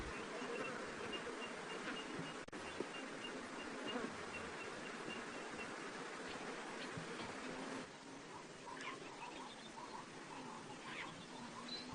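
Swarming flies drone steadily around an animal carcass in the African wild, a dense, continuous buzz close by that shifts slightly in pitch and intensity, with no voices.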